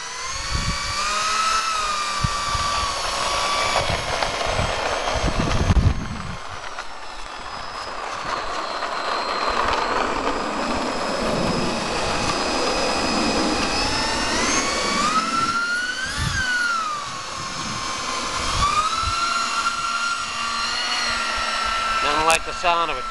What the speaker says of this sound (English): Like the sound of a twin EDF